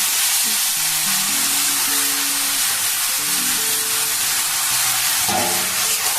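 Fried gram flour goes into a bottle gourd stem curry in a pan, where it makes a loud, continuous close-up sizzle and hiss with faint stirring underneath throughout.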